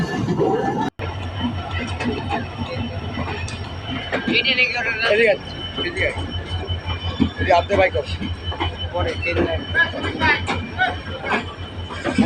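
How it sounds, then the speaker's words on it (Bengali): The Sundarban Express rolls into Pachuria Junction station with a steady rumble and some metallic squeals, while people talk over it nearby. "ট্রেনটি কিন্তু এখন কিন্তু পাঁচুরিয়া জংশন স্টেশনে প্রবেশ করছে"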